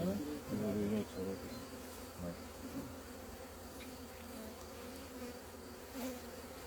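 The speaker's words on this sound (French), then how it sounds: "elles sont plutôt calmes les abeilles" A steady, dense buzzing of many calm honey bees close by around a hive, a continuous low hum with faint rustling, no talking.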